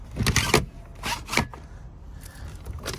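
A few short zipping, scraping pulls of a roller sunshade in a 2021 electric Smart Fortwo in quick succession, fairly close, then quieter rustling; no talk.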